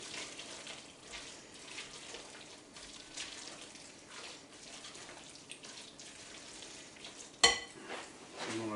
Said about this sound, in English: Stir it around real good.